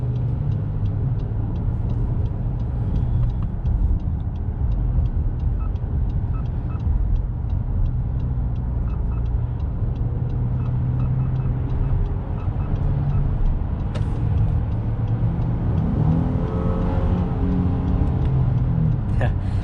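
A 2021 Honda Ridgeline Sport pickup drives on a highway, a steady low engine and road rumble heard from inside the cab, with talking over it throughout.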